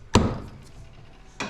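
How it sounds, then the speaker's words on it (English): Two sharp taps of a mallet on a 2024 Yamaha YZ450F shock part, close and crisp, the second coming about a second and a quarter after the first, with quiet between. "Tap it down with a mallet, not a framing hammer"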